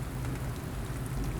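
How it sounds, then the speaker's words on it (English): Steady rain falling, a soft constant hiss with no other sounds in a brief stretch. "let you enjoy the raining sound"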